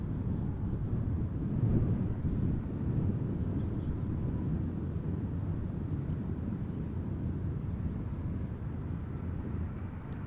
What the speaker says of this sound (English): Now I'm also hearing an airplane pass over. That would be Finnair A330-300 going to Helsinki.